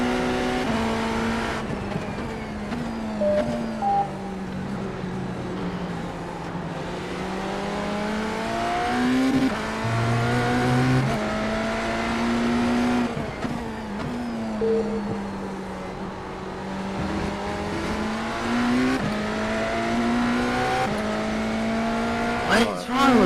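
Race cars in iRacing at Daytona hold a continuous, loud engine drone that rises and falls with shifts and throttle changes, with passing cars nearby, while someone talks over it.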